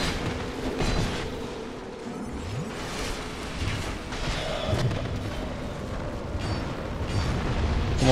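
Fire attack in Dark Souls 2 during a Crown of the Ivory King boss fight: a dense, continuous roaring rush of flame with rumbling bursts layered over battle noise, loud and sustained with no talking.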